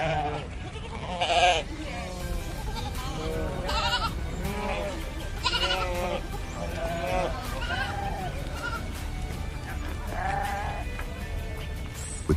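Many sheep bleat repeatedly, overlapping calls at varying distances, while being loaded into cages for transport, with a constant mechanical background hum and occasional clanks beneath the flock.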